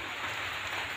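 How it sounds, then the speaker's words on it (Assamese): Rain falls steadily and evenly outside a kitchen, a dense hiss of drops on surfaces that stays constant for about a second. "চাওক বৰষুণ পৰিছে, গোটেই পানী হৈছে।"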